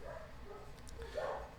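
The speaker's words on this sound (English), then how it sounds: "They like barking at everything." A dog barks a few times at a distance, the yaps fairly faint against a steady low background hum.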